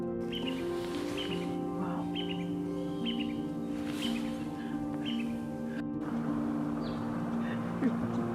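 Birds call on an early-morning game drive in South Luangwa National Park, Zambia. Chirps and tweets repeat at a moderate distance over a steady low engine hum, and the sound stays faint throughout.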